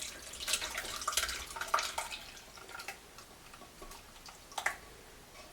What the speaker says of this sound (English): I'm going to pour this through the muslin into the sieve